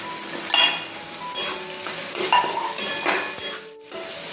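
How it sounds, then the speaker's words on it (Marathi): Finely chopped kantola (spiny gourd) fries in hot oil with asafoetida, turmeric and coriander powder, a close crackling sizzle broken by repeated scraping stirs of the spoon against the pan. "याच्यामध्ये बारीक चिरलेले कंटोले टाकू"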